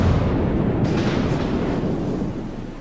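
Naval gunfire and shell impacts in World of Warships from the Italian cruiser Duca D'aosta's battle, a loud rumbling barrage that holds as a steady roar and slowly fades toward the end, with no voices.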